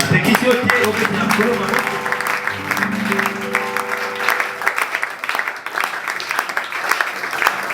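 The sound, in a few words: church congregation applauding and acclaiming the Lord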